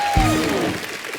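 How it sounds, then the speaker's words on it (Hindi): Studio audience applause breaking out on a Hindi comedy show, a dense wash of clapping that starts right after a brief tone and continues steadily at even loudness to the end. "एक बार जोरदार तालियां हो जाए आदित्य के लिए"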